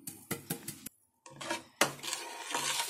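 A spoon clinks and scrapes against a bowl while mixing chili powder, black salt, white salt and black pepper, a run of quick close taps, a brief pause, then steadier scraping.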